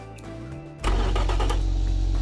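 A car engine in the Automation game, a 110-horsepower unit, idles quietly and then jumps to a louder, steady running drone with a sharp rise partway through, heard alone and up close.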